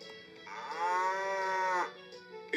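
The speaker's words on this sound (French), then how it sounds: "Vache." Through the small speaker of a VTech Genius Kid children's laptop, a single drawn-out cow moo plays loud and alone, swelling for over a second before cutting off cleanly.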